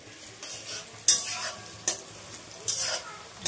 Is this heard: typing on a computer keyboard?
no